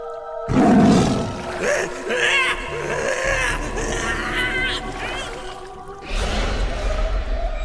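A deep, drawn-out tiger roar rises and fades in a dramatized Sundarbans story, loud and close, layered with music and voices and returning near the end.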